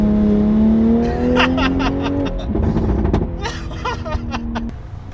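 An Alfa Romeo Giulia Quadrifoglio being driven gives a loud, steady engine drone that rises in pitch, with road and cabin noise heard from inside.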